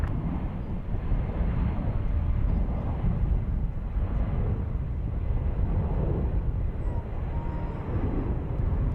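A jet airliner taking off from San Francisco International Airport roars continuously and loudly, a broad steady rumble that holds throughout without pause.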